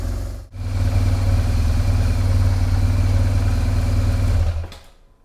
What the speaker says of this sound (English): so bike started, we'll just let it warm up